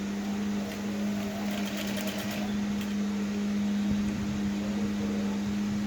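A sewing machine stitches a blouse seam, taking it in by half an inch, running with a steady even hum throughout, close and alone with no talk.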